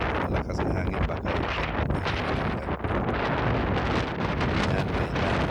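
Strong wind at the top of a volcano roars and buffets straight into the microphone, a loud, continuous rumbling blast with brief gusty dips and no talking.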